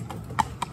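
Hooves of a Cob x Trotter mare clip-clopping at a steady walk, a few crisp strikes standing out over low background rumble.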